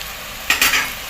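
Yogurt, spices, ginger, garlic and onion for arvi gosht hit the hot pan with a sudden sharp sizzle and a couple of quick stirring scrapes over a low background hiss.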